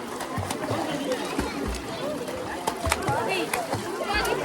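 People splashing water in a swimming pool, with scattered splashes and slaps of water mixed with lively voices and chatter close by.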